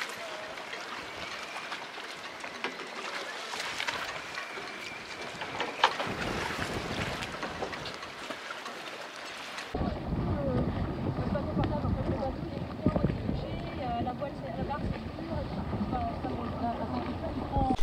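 The engineless wooden sailing boat Telenn Mor, built in 1983, sets off from her mooring under sail in a narrow river channel, with steady wind rushing across the microphone and water moving around the hull.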